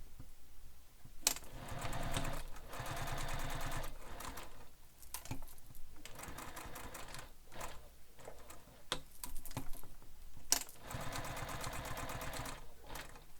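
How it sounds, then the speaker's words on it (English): A sewing machine stitches around the connectors of a handbag in bursts of rapid, steady mechanical whirring separated by short pauses, close and clear with no talk. "we're going to stitch all the way around the connectors"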